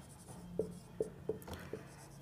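Writing a maths solution by hand, several short distinct scratchy strokes in an irregular rhythm over a quiet room background, faint and close.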